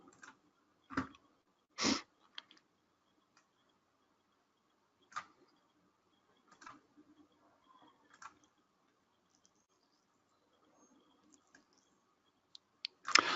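Sparse, soft clicks from a computer mouse on a search bar, a handful of isolated taps spread across a quiet stretch with long gaps between them.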